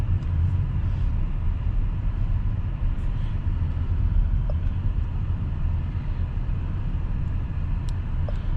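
A 2026 BMW i7 accelerating through city streets, its drive giving a steady low rumble and road noise heard from inside the cabin, continuous and fairly loud with no talk.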